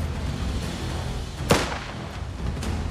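A single sharp gunshot from the Last Train Home video game sounds near the middle, rising over a steady low rumble of background noise.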